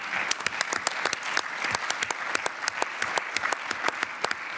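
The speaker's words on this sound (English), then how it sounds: "I think you also deserve an applause at this stage" A conference audience at the ZeroCon18 closing session breaks into sustained applause, a full, lively crowd of hands clapping with distinct sharp individual claps standing out.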